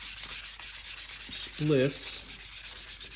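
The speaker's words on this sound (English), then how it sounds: "Now I'm just doing some light sanding over the entire bird." Rhythmic rubbing strokes of light sanding over a carved wooden goldeneye drake, a repeated scratchy swish, with a brief spoken word in the middle.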